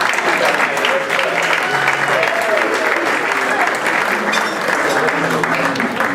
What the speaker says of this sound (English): they should be really applauded.